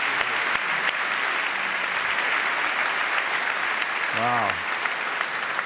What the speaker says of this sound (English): Big round of applause for Janice Stein